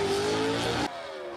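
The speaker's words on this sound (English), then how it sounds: "Mike Blackwell having a great launch, but tremendous trouble getting that thing into gear" A gasser drag car with a clutch-shifted four-speed launches at a Southeast Gassers Association drag race at Silver Dollar Motorsports Park, a loud rising engine roar that cuts abruptly to a lower drone less than a second in.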